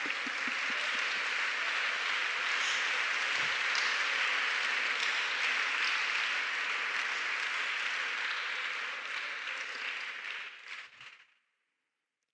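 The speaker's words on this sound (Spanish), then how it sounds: "Dele un aplauso a la gloria" Crowd applause fills a Christian worship service, a dense, steady wash of many hands clapping for about eleven seconds before tapering off and stopping abruptly near the end, with no talking.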